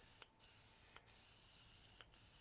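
A Preval sprayer sprays in a steady, quiet hiss, interrupted by three brief dips as the spray stops and restarts.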